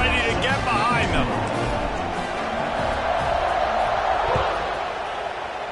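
A stadium crowd roars at a kickoff during a tied third quarter in the College Football 26 video game, a dense, sustained cheer running under a play-by-play commentator's voice.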